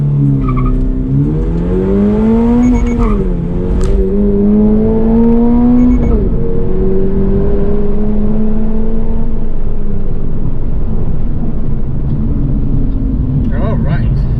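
A Toyota GR86 accelerates hard from a standstill to 60 mph, its loud engine note rising through the gears, with pitch dips at each shift, heard from inside the car. Brief tire noise and a voice are audible under it.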